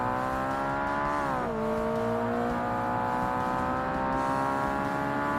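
Honda S2000 engine with VTEC in the Forza Motorsport racing game, revving high and steady with a brief dip in pitch as it shifts, then climbing again, loud and continuous with no talk.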